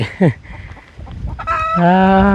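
A chicken lets out a sharp cluck, then breaks into a loud, drawn-out cackle that rises in pitch near the end.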